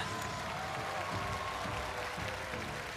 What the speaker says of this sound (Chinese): 掌声祝贺他们。